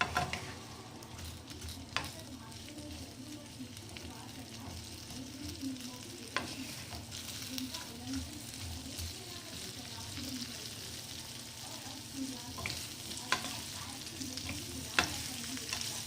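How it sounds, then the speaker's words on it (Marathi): Okra and onions fry in a pan with a faint, continuous sizzle and intermittent light stirring clicks and scrapes throughout. "छान ते कव्हर त्याचं मऊ होईपर्यंत फ्राय करून घ्यायचं"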